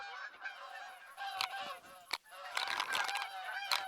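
A flock of geese honking in a chorus in theHunter: Call of the Wild, repeated overlapping nasal honks, clear and fairly close, with no talking.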